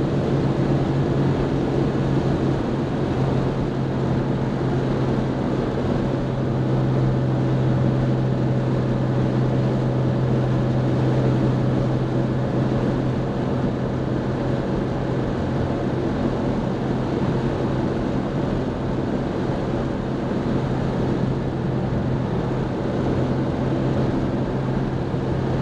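A Jaguar E-Type coupe cruising on backroads of the Finger Lakes, New York, its engine a steady, loud, unbroken drone with a constant low hum throughout and no voices.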